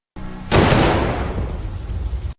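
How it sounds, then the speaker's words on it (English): A single loud, booming gunshot bursts after a brief low hum, then rumbles and echoes, fading slowly. "The scene cuts to outside the building, where 2 gunshots are heard."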